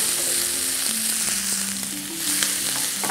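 Onion and garlic fry in corn oil while being stirred, a dense, loud, continuous sizzle close up with faint scraping under it, and no talking.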